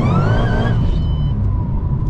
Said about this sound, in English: the belt is slipping on the blower